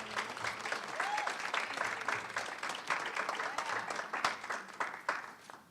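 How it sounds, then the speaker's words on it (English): Audience at a Village of Hoffman Estates Black History Celebration breaks into steady, dense applause for a speaker, with many hands clapping fairly close and a voice faintly audible beneath. "Let's give another round of applause to Mr. Gibson."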